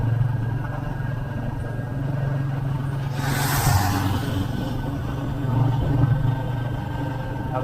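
A Royal Enfield Meteor 350 motorcycle cruises along a highway at night, its engine a steady, close mid-pitched drone with a hiss of passing wind, and a brief swell of noise partway through.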